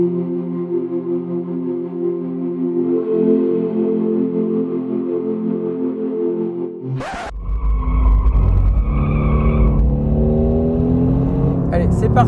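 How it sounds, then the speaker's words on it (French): A Mercedes-AMG GT R on a race track: a steady engine drone that switches to a loud, rising acceleration roar with gear changes, heard close from inside the car under some talk. "première accélération au volant de l'AMG GTR."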